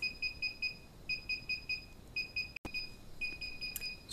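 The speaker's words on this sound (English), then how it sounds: "The beep stopped for a second there and then carried on, which it normally does just before the end" A DJI Phantom 3 drone beeping during a firmware update: repeated short high electronic beeps in quick groups, pausing briefly midway before resuming at a steady pace, fairly faint and without talk.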